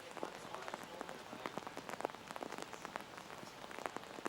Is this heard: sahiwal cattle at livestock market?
no